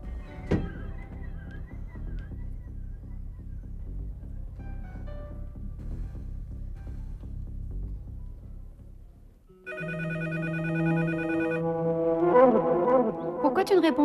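A telephone rings in a French TV drama scene, starting partway through after a stretch of low background noise, its electronic tones repeating loud and close.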